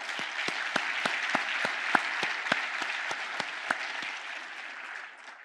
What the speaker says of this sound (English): These partners deserve a huge round of applause.